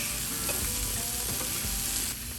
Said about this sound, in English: I'm just gonna let this continue to get beautiful on the grill here